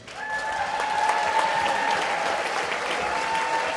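A large room at an awards dinner fills with steady, dense applause and some cheering, holding at an even level throughout, with a faint tone ringing underneath.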